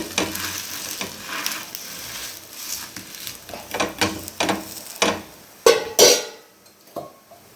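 Ragi and drumstick-leaf adai cooks on a pan, a fading sizzle punctuated by sharp scraping and pressing knocks of a spatula, a few louder clanks near the end.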